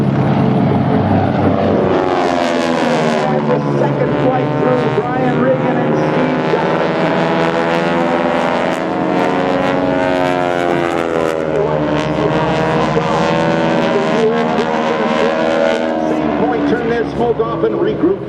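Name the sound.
aerobatic airplane flying over in airshow display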